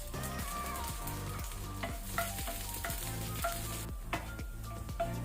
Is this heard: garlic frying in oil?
yes